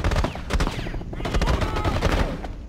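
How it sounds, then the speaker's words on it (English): Rapid bursts of gunfire in Rainbow Six Siege on the Oregon map during a bomb match, loud sharp shots crackling in quick volleys over a steady backdrop of game noise, with faint voices now and then. "I think someone's shooting"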